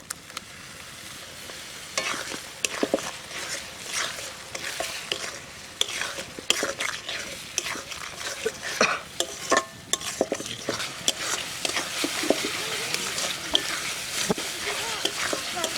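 Spices and tomato puree frying in a pot for egg curry, stirred continuously, with a close, busy scraping and sizzling that grows denser toward the end, and faint voices underneath.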